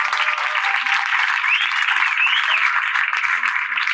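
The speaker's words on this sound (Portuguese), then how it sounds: "Aplauso mais uma vez" A crowd gathered for a talk at a bookstore in Santos claps together, a dense, even patter of hands sustained for several seconds at a moderate distance.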